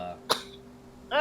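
One sharp, close cough from a player during a tabletop role-playing game session, followed by a short pause before a voice starts talking.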